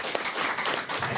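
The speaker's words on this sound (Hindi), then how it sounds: "उनके लिए ताली हो जाए।" An audience claps for team leaders at a business seminar, a dense, steady patter of many hands with a brief louder accent early on.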